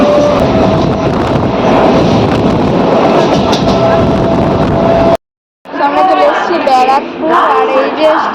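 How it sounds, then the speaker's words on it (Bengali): A departing passenger train carrying riders from a station during a Saraswati Puja outing, its steady loud rolling rumble and rail noise continuing under onboard chatter, cut briefly before busy voices and clatter resume. "ট্রেনে উঠে গেছি আমরা, ট্রেন ছেড়ে নিয়েছে"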